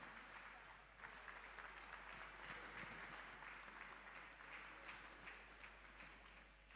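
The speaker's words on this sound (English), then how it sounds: "Another round of applause." Applause from a conference audience at an annual general meeting, a soft, steady wash of many hands clapping at a distance, even in level throughout.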